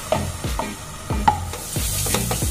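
Cooked moong dal paste for halwa being stirred in ghee in a pan, giving a few thick scraping strokes of the spoon over a soft bubbling sizzle, close and with no voices.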